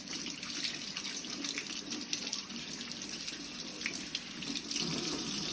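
Warm tap water runs steadily into a sink while hands are scrubbed beneath it, a continuous soft hiss and splash at a low, even level with small fluctuations.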